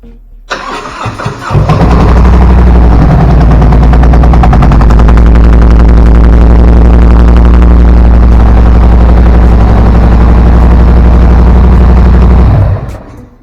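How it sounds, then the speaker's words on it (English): A 2018 Harley-Davidson Road King Special with a Milwaukee-Eight engine, its rear cylinder not firing, cranks briefly, then runs loud and close with an uneven, lumpy idle for about eleven seconds before shutting off. "I found out that the rear cylinder wasn't firing anymore"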